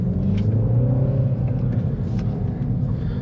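A 2024 Mini Cooper S three-door with a 6-speed manual gearbox, its engine giving a steady low rumble from inside the cabin while driving, with road noise beneath and no talking.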